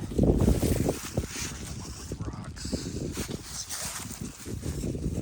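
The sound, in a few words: strong wind blowing against a tent on the trail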